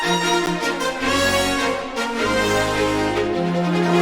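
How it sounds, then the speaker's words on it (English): Bold orchestral brass sounds a full melody in the style of Final Fantasy music over a low sustained bass, steady and loud throughout. "And then brass again."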